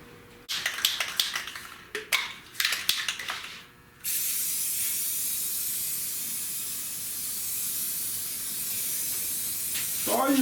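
A spray gun lays a light dust coat of paint on a 1966 Buick Wildcat GS: a few sharp taps and clicks come first, then a steady, close hiss runs unbroken for about six seconds.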